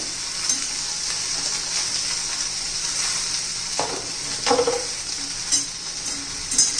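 Okra sautés in oil in a pan as it is stirred, a steady moderate sizzle broken by a few scraping and clinking spatula strokes near the end, with no one speaking.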